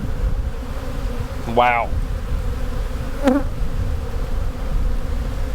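Honeybees in an open hive being split drone in a dense, continuous buzz close by, with one person briefly exclaiming over it.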